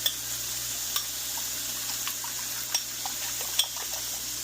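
Butter melting and foaming over medium heat in a frying pan makes a steady soft sizzle and hiss, close by and continuous, with a few faint clicks and taps over it and no talking.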